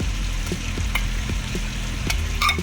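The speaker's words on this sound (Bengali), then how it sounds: "পেঁয়াজ আদা রসুন ভালো করে ভাজা হয়ে গেছে।" Ginger, onion and garlic paste frying in a pan for a boal fish curry: a steady, close sizzle with a few sharp stirring clicks and scrapes, and no talking.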